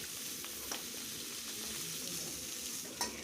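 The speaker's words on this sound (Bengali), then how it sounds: "এদিকে মাছের মাথাটা উল্টে পাল্টে ভেজে নিচ্ছি ভালো করে।" A fish head fries in hot oil in a home kitchen, giving a steady, close sizzle with faint stirring and a soft clink or two as it is turned, and no voices.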